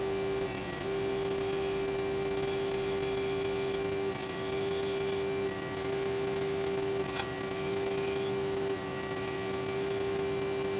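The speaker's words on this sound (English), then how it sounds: "I go back to one of my favorite tools, and it's this very small belt sander" A very small belt sander grinds a piece into a cone shape, giving a steady, loud, high-pitched whine with a constant motor hum and a gritty abrasive rasp that shifts slightly as the work is pressed, with no talking.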